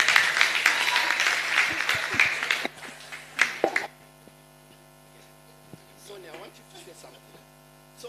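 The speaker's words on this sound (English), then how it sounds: "Mr. Sonny Zulu, let's give a round of applause." Brief round of applause at a book launch, a few seconds of clapping that tapers off into a quiet room with a steady electrical hum and a voice starting to speak.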